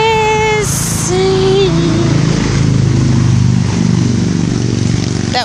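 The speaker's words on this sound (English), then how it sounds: "That was a motorcycle, honey." A motorcycle passes along a nearby road, its engine rising in a steady rumble that builds and holds, partly under a voice and a small dog's high yelps at the start.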